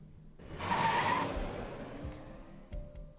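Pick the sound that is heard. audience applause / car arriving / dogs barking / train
car arriving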